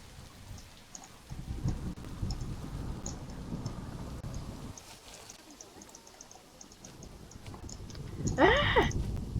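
Steady rain hisses throughout a Planet Zoo park with low rumbling swells of thunder underneath, fairly quiet and continuous, with a short bright animal-like call near the end.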